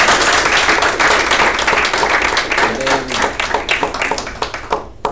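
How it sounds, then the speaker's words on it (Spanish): People at a panel event on organ donation, linked by videoconference between Puerto Rico and Spain, give a loud, sustained round of applause, with individual claps standing out as it winds down. "Vamos a darle un fuerte aplauso."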